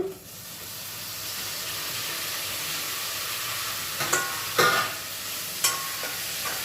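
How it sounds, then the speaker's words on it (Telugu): Tomatoes fry with ginger paste in a pan, a steady close sizzle with a few sharp clacks of a spatula against the pan near the end, and no voices. "అల్లం పెస్ట్ బాగా వేగిందండి వేగినాక ఈ టమాటాలు వేసుకున్నాము"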